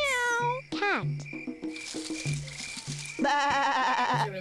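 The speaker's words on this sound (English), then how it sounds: "Meow." A cartoon cat in the Reader Rabbit Toddler video game meows among bouncy game music notes and other cartoon animal calls, close and clear, with a voice speaking briefly along with it.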